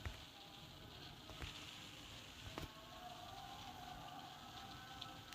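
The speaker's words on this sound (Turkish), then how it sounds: "Yağmur yağıyor." Rain falls steadily in Stardew Valley, a soft continuous patter with a few faint ticks, quiet and even throughout.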